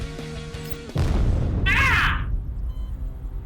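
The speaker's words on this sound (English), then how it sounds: "Another explosion strikes Yelmo's deck." A video game explosion on a ship's deck, a sudden loud boom that cuts in and rumbles on, with a brief crackling burst rising over it before fading into a low roar.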